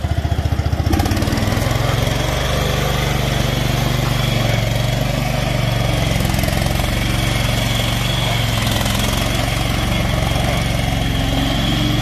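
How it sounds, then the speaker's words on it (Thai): A Mitsubishi four-stroke gasoline engine on a TCM wheel loader runs steadily and loudly up close, holding a constant droning idle with a slight rise in pitch, no voices. "าเร่งเครื่องนิดนึง"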